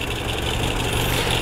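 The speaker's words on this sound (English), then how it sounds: "maybe not the most dynamic sounding engine there ever was" A Talbot Solara GLS saloon engine idles steadily, a close, even low rumble with a faint mechanical hum and no speech over it.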